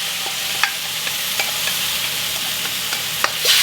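Sauce poured onto browning garlic in a hot pan for Dan Dan noodles, a loud steady sizzle with soft scraping stir strokes and no talk.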